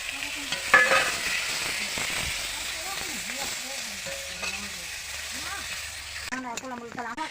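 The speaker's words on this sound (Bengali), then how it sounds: "লঙ্কা, জিরে ফোড়ন, তারপরে লঙ্কা, পেঁয়াজ কুচি দিয়ে ভাজা ভাজা করে" Chilli and cumin seeds fry with chopped onion in hot oil for dal, giving a steady close sizzle with stirring scrapes, while voices talk intermittently.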